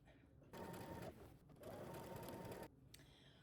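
A sewing machine stitches around the pressed, folded edge of fabric while sewing a Simplicity 3036 pattern. It gives two close, steady bursts of motor whir and needle chatter, separated by a short pause, with quiet gaps before and after.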